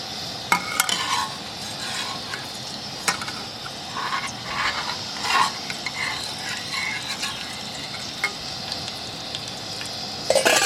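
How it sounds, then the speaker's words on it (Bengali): Ripe palm langcha frying in hot mustard oil in a wok, cooked outdoors, gives a soft, steady sizzle punctuated by irregular clinks and scraping stirs, with a louder clatter near the end. "গরম হয়ে গেছে, এবার আমি তালের ল্যাংচাগুলো ভেজে নেব।"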